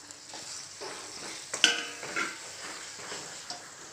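A spoon stirs buttermilk kuzhambu with snake gourd in a pot over medium flame, producing soft scraping strokes and a single sharp clink against the metal, with a faint simmering sizzle beneath and no talking.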